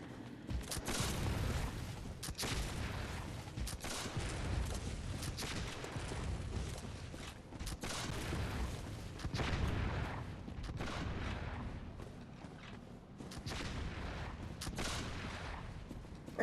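Gunfire in a game stream, a dense continuous barrage of booming shots and rumbling blasts rolling on for over fifteen seconds with no break, loud and steady.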